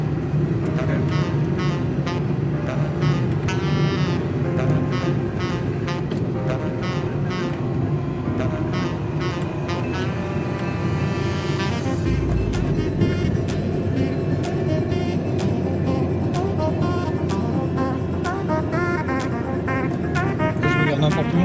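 A car climbing uphill toward Pyrgos on Santorini, a steady loud engine drone and road rumble that holds throughout with a brief shift midway, heard from inside the vehicle.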